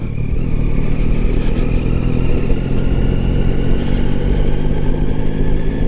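A 2024 Yamaha Tracer 9 GT+ motorcycle ridden over cobblestones, its engine droning loud and steady with wind and road rumble and no voices.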